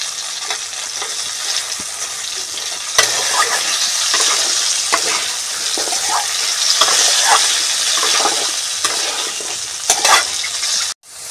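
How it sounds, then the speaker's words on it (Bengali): Potatoes frying in hot oil while a bay leaf goes in, a steady close sizzle with repeated stirring scrapes and light utensil knocks throughout, and no talking. "আমি এখানে একটা তেজপাতা দিয়ে দেবো।"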